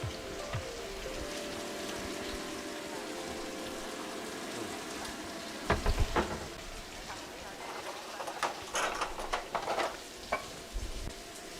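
Vegetables sizzling and being stirred in a wok for a spicy black bean kung pao chicken, a continuous hiss with louder scraping and clattering bursts in the second half, under faint background talk.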